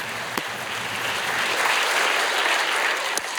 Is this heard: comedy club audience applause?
yes